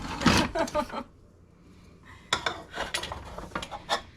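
A spatula scrapes and clatters against the metal basket of an air fryer, prying out zucchini pizza bites in bursts of close, rattling scrapes, with a pause in the middle and people talking around it.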